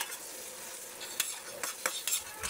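Garlic frying in a pan as a spoon stirs it, a steady close sizzle broken by several sharp utensil scrapes and clinks, with no voices.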